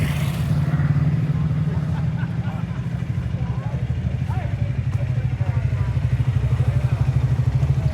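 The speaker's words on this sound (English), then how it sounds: "Dirt bike squad have pulled up." Dirt bikes idle and rumble close by after pulling up, a steady low throbbing engine note with a pulsing beat, loud and continuous, and voices speak over it.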